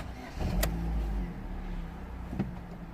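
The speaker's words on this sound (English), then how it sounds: "Let's start the car." A Vauxhall Astra J engine starts up close by, catching with a brief rising rumble and a sharp click, then settling into a steady low idle for the rest of the moment.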